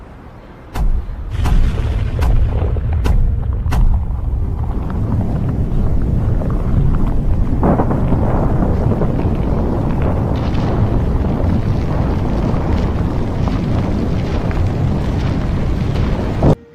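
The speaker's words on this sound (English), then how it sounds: "Let us take a look at an implosion." A building implosion demolition: a rapid series of sharp charge blasts in the first few seconds gives way to a loud, sustained roaring rumble of the collapse that carries on steadily to the end.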